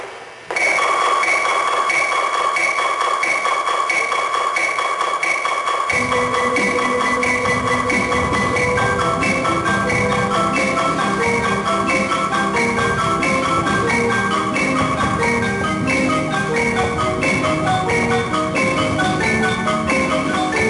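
A high school indoor percussion ensemble plays a busy, rhythmic warm-up with pitched mallet notes over drums joining after a few seconds, loud and continuous throughout.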